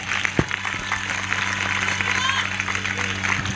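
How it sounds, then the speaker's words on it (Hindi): Church prayer-meeting congregation clapping together, a dense steady wash of applause with a low hum and a voice beneath it. "ताली बजनी चाहिए इस बात के ऊपर।"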